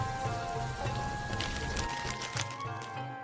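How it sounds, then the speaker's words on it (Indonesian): Heavy rain falling at night over the Badr battlefield hisses steadily and fairly quietly, with dense patter and a faint tonal background hum, no speech. "Malam itu, hujan deras mengguyur medan Badar."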